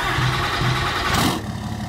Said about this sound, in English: This Cummins sure does sound good here with that tune I installed pretty recently